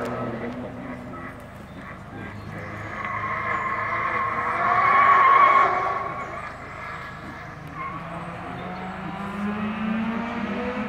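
A Seat Leon race car passes at a local hill-climb or rally event, its engine swelling from a distance to a loud close pass around the middle before fading away, alone without talk.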